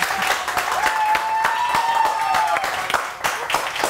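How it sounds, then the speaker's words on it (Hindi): Studio audience applause on a Pakistani morning show set, a dense continuous patter of clapping running steadily throughout with sharper individual claps poking through, over a sustained tonal music bed. "खुल के तालियां बजाओ।"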